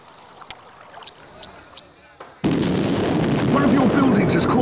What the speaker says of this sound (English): Someone has set off a bomb in one of your buildings.